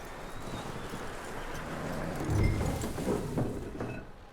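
Horse hooves clip-clop at a slow walk in Red Dead Redemption 2, soft irregular thuds set low under a faint ambient bed, swelling a little toward the middle.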